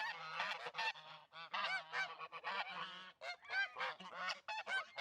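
Geese honk repeatedly in rapid, overlapping bursts, loud and close, with several birds calling at once.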